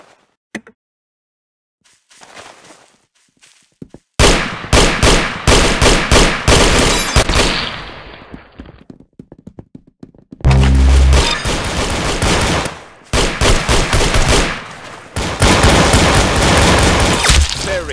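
Gunfire from the online shooter game Arsenal: after a quiet start, loud bursts of rapid automatic shots crackle in dense clusters, broken by short pauses and one deep booming burst.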